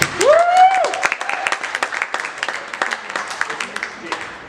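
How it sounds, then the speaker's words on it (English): A whoop rises over a magic show audience, then scattered applause breaks into a patter of clapping that continues steadily, fairly close. "Give him a big round of applause."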